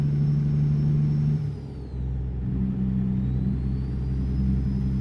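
A modded truck engine in a truck driving game drones with a deep, steady rumble, dips briefly as the load eases, then settles back into a constant low growl under a faint high whine, heard close with no talk.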